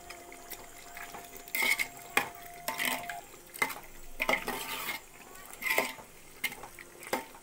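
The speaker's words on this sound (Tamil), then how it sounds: "கிளறி விட்டுக்கலாம். இப்போ மட்டன் வந்து பாருங்க இந்த பதத்துக்கு வரணும்." Mutton biryani being stirred in a pot, with irregular scraping and clinking of a utensil against the metal and soft wet shuffling of the mix, arriving in bursts through the whole stretch.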